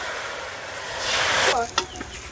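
Water poured into a hot pan of old, hardened jaggery for patishapta pitha sets off a loud, rising sizzle that cuts off sharply, followed by a couple of quick clinks and a faint hiss.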